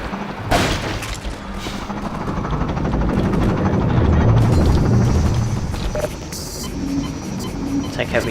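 Combine gunship helicopter in Half-Life 2 on a highway, a loud rotor drone mixed with sharp bursts, booms and shattering impacts, with occasional voices under the noise.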